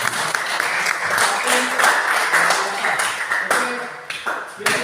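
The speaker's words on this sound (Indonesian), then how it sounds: "Tapi sebelumnya tepuk tangan untuk kita semua dulu." An audience claps together at a gathering, the applause sustained and fairly loud for the whole stretch, with scattered individual claps and a few sharp taps standing out.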